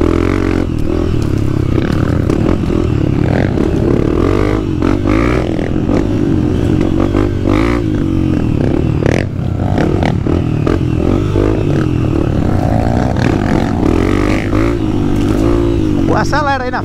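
Motorcycles revving and accelerating through deep mud on a trail, engines loud and constant throughout with scraping and clattering, close to the microphone, with people talking over the noise.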